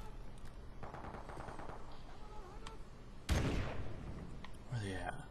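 Gunfire in Call of Duty Remastered: a quick rattle of distant shots, then one loud close shot with a ringing tail and a later burst, all over a low background hum.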